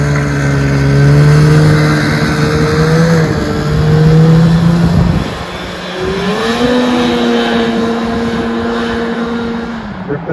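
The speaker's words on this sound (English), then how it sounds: "Blaine's out for a rip on Grandpa snowmobiles" A Yamaha SRX 440 snowmobile from around 1979–1980 revving during a ride, its engine whining up and down in loud surges that dip and climb again, close by and with no talk.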